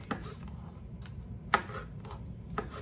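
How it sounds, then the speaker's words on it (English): Knife chopping salad ingredients on a cutting board in a home kitchen, a few sharp isolated taps spaced irregularly over a low background hum. "while I'm standing here chopping and mixing and all that good stuff"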